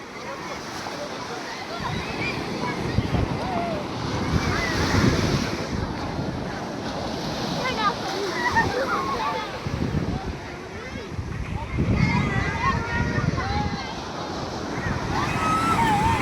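Sea waves break on a beach in rolling surges that swell and fade. Steady wind buffets the microphone throughout.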